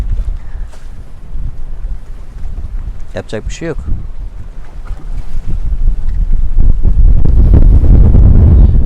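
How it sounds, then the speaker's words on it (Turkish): On a sailboat in strong wind at sea, water hisses and rushes past the hull with loud gusts buffeting the microphone, swelling louder toward the end, while someone talks briefly. "Denizin hışırtısına odaklanın."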